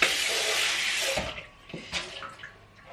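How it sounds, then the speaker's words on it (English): Tap water runs loudly into a sink while something is rinsed beneath it, a steady hissing stream that stops after about a second, followed by a few softer splashes and drips. "So now I'll just rinse this off."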